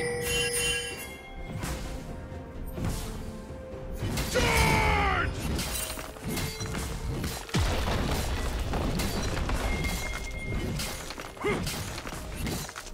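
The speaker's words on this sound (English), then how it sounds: "Blue Team's turret has been destroyed." Turret destruction in a League of Legends match during a top-lane Garen versus Volibear game: a dense, busy burst of crashing, shattering game effects with mechanical clanks and a rising whoosh, loud and continuous over layered in-game sounds.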